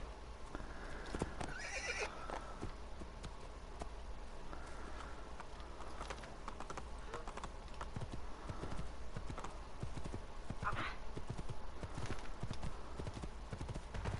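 Horse hooves clop in a steady rhythm with a horse neighing partway through, all fairly quiet and close, with a few scattered thumps, in the video game Assassin's Creed 2.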